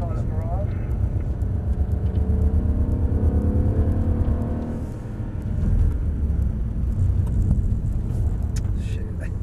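A Mercedes E63 AMG driven fast around a track gives a constant, heavy engine and road rumble inside the cabin, with a rising pass near the middle, while people talk over it.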